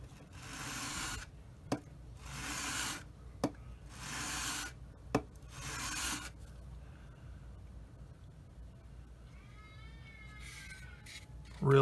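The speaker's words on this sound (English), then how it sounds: "just sand it like that to get it really" A part for a Revell 1/48 F-15C Eagle model is sanded flat in rhythmic back-and-forth rasping strokes, about four passes with sharp clicks between them, then quiet with a faint cat meow near the end.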